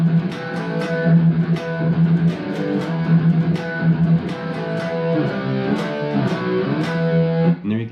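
Distorted electric guitar chugs through a riff, a dense, loud heavy-metal chord pattern with steady driving rhythm and sharp accented hits, playing alone without any talk.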